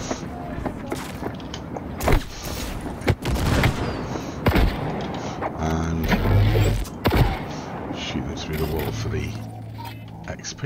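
Grenade blast and gunfire in the video game Cyberpunk 2077, with loud broadband booms and sharp shots at irregular intervals, one heavy low burst around the middle, all under a busy mix of game effects.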